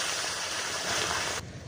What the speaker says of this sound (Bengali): আর এখানে দেবো হাফ বাটি জল।